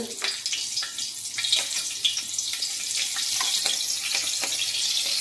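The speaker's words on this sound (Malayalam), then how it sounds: "ചുവട് കട്ടിയിലൊരു ചീനച്ചട്ടി എടുത്തിട്ടുണ്ട് അതിലേക്ക് ഞാൻ ആദ്യം കാന്താരി മുളകാണ് ഇട്ട് കൊടുക്കുന്നത്" Kanthari chillies frying in a thick-bottomed pan give a bright, steady sizzle with scattered crackles and pops, close and fairly loud throughout.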